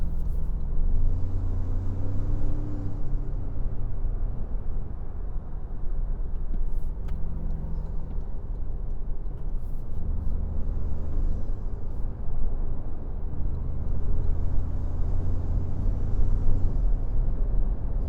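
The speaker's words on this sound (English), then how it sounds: "out here on the highway, we do get some wind noise coming from the tops of the windows" Steady low road rumble from inside a 2025 Toyota 4Runner Trailhunter 4WD cruising on the highway, with a constant airy rush of wind noise from the window tops over it; no talking.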